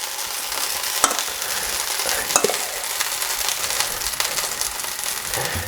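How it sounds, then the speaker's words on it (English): Chicken pieces fry in a hot pan, hissing and spitting steadily as moisture burns off, with occasional sharp crackles and a few stirring knocks, close and without speech. "spitting is actually moisture from the chicken"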